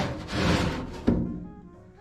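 A small metal drawer in an old Hoosier-style kitchen cabinet is slid and handled, giving a scraping rumble followed by a single close, hollow knock that fades out, with no talking.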